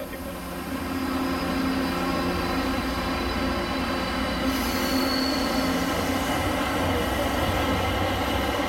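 A São Paulo metro train rumbles steadily along with a continuous roar and clatter of wheels on track, loud and close, with no voices.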